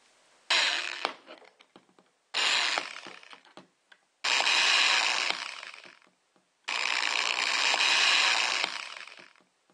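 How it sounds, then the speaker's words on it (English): A drill bores a row of small 1/8 inch holes into the plastic lid of a homemade mosquito trap. Four separate loud, whirring bursts of a few seconds each are broken by short quiet pauses. "I'm going to put a series of small 1/8 inch holes along the top here"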